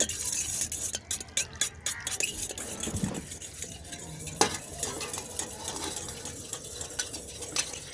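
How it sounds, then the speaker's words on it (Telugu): Curd and salt are mixed in a metal pot, with repeated scraping and clinking strokes of a spoon against the pot's sides in an uneven rhythm, close and fairly loud. "ఉప్పు వేసి కలిపి"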